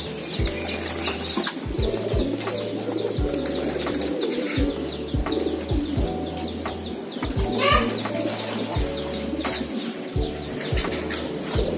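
Pigeons coo in low repeated rolls while wings flap in sharp bursts, with other birds chirping faintly in the background.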